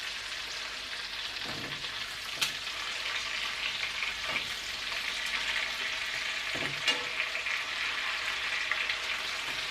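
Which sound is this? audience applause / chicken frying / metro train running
chicken frying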